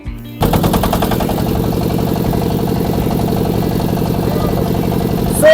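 Boat engine on the Padma river in India, a loud steady rapid chugging drone with a dense repeating pulse, running continuously close by after a brief quieter start.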